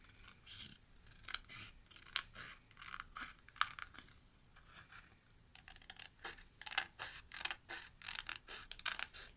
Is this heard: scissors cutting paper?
yes